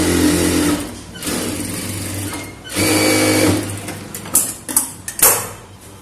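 Sewing machine stitching a chudithar top in stop-start runs: two longer loud bursts of rapid needle chatter, then several short quick spurts separated by pauses.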